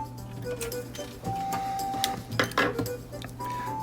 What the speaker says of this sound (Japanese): じゃあ縫ってきます。